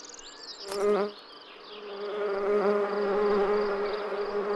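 A bee buzzes close by, its drone loud and wavering in pitch as it moves, with a sharp flutter early on.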